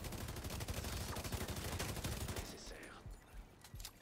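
Gunfire in the shooter game The Division 2, with dense, rapid bursts of automatic weapon shots crackling continuously before thinning into scattered, quieter shots.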